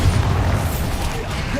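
Bombarda blast spell explosion in Hogwarts Legacy, a loud, deep, rumbling boom that fills the whole short moment with no talk.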